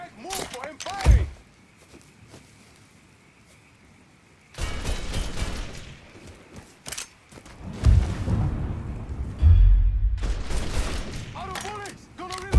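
Bursts of enemy gunfire in the Mafia III video game crack out in loud, close volleys between quieter stretches, over game sound effects and shouting voices.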